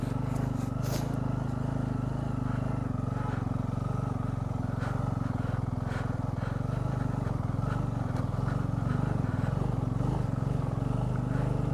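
A car engine labors in first gear up a steep, dangerous mountain road toward Lachen, holding a steady, heavy droning hum throughout with no gear change and no talk.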